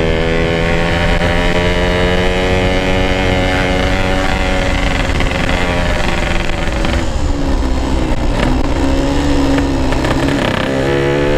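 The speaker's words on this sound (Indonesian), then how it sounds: "Masih ada lalu lalang motor mobil" Motorcycles and cars move along a flooded road late at night, a loud, continuous engine drone with a rising and falling whine that dominates throughout.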